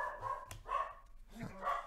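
A pet dog barks and whimpers a few times in a room during an NHL hockey card box break, the yips mixing with a person talking nearby.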